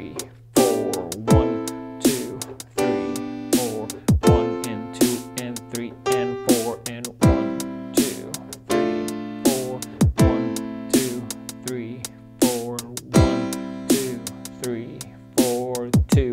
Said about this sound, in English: So if I go through that section slowly, it's gonna sound like this.